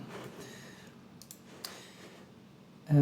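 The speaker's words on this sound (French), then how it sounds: "Je clique sur le premier icône en haut." Computer mouse clicks while using AutoCAD: a few sparse, faint clicks spread out over quiet room tone, followed by a louder thump at the end.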